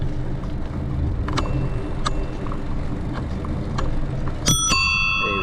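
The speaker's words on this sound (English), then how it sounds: "I'm going to give you a taste of the old ding dong bell." Bell on a vintage 1984 Raleigh Superbe three-speed bicycle rings in two sharp dings, then a brighter ring near the end, close by over steady road traffic and riding noise.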